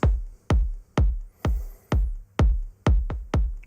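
Compressed drum loop processed through a Supercharger compressor plugin with its punch and dirt circuit engaged: seven evenly spaced, punchy hits about half a second apart, each with a gritty, distorted attack and short decay, played alone.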